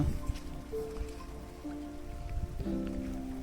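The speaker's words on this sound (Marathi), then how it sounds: "जोरदार पाऊस इलो म्हणून पळाचा लागला" Heavy rain falling on leaves and wild vegetable vines in a Konkan monsoon field, a faint, steady patter and hiss with a few soft tonal hums underneath.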